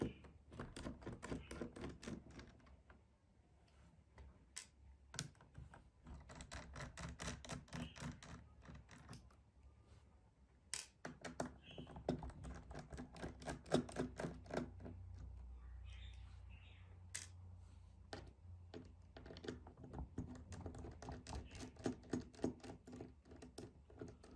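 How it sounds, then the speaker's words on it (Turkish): Screws being backed out of a Toshiba laptop during a keyboard replacement: irregular small clicks and ticks of a screwdriver on metal and plastic, close and quiet, with occasional handling thumps and a low background hum. "Bu vidaları sökmekle başlayalım."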